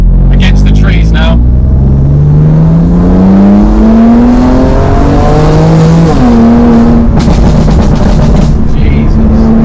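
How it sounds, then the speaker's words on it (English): A BMW M2 Competition's engine revs loudly and close, its pitch climbing steadily and then dropping before holding, with sharp crackling exhaust pops and bangs at the start and near the end; a voice talks over part of it. "It's got pops and bangs, this is rubbish. That needs to come off. It sounds awful."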